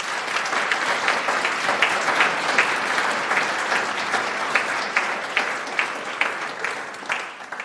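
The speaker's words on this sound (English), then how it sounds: "So can we give them another massive round of applause" A room full of people gives performers a sustained round of applause, dense and fairly loud, with individual claps standing out before it tapers slightly at the end.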